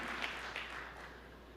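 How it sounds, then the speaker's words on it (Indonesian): Church congregation applauding during a sermon, a short, fairly quiet spread of hand claps with a small swell near the start that fades out across the moment. "Berikan tepuk tangan yang meriah."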